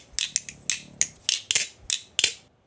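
A standard balisong butterfly knife with its screws in being flipped, giving a quick series of about nine sharp, bright metallic clicks and clacks in an uneven rhythm, close and alone.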